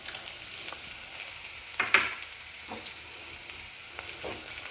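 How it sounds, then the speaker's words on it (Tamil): Onions and coconut pieces frying in a pan for a Tamil vazhaikkaai dish, a steady close sizzle with faint stirring scrapes and one brief louder clink, alone without speech. "இப்போ வெங்காயம் வதங்கியாச்சு."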